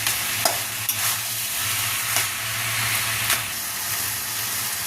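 Fish-head shukto with mixed vegetables is stirred in a kadai, a steady frying sizzle broken by several sharp scrapes and clinks of the spoon, with no talking.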